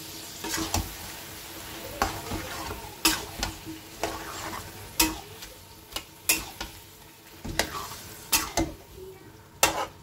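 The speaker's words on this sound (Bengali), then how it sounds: "এবার সবগుলোকে আমি ভালো করে সুন্দর করে কষিয়ে নেব।" Chicken with about 125 grams of sour yogurt sizzles in a pan as a spoon stirs and scrapes it in a quick repeated rhythm, with clicks against the pan above a steady frying hiss.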